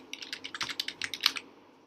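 Quick, light keystrokes on a computer keyboard while entering data in a Microsoft Excel spreadsheet, about a dozen crisp clicks in an uneven burst, close and fairly quiet with no talk.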